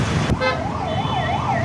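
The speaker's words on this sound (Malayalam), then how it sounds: "ചെന്നൈ റെയിൽവേ സ്റ്റേഷൻ അടുത്ത് നിൽക്കുമ്പോഴത്തേക്കും ആംബുലൻസ് പോകുന്ന സൗണ്ട്" An ambulance siren wails near Chennai railway station, its rising and falling tone cycling clearly over road traffic noise, preceded by a brief sharp burst.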